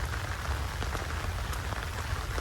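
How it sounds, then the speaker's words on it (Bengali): Rain falling on a roadside, a dense, even patter of drops on surfaces, steady and fairly close throughout. "বৃষ্টি কিন্তু শুরু হয়ে গেছে"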